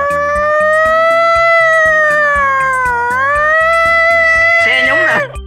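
A human voice imitates an ambulance siren, holding a loud, rising and falling wail for several seconds close up before it breaks off, over a rhythmic beat of background music.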